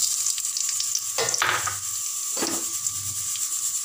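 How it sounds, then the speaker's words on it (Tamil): Dried red chillies and black pepper frying in a pan for a mutton gravy, a steady close sizzle broken by louder crackling stirs; no talk. "மிளகாய் வத்தல் நல்லா லேசாக வறுக்கணும்."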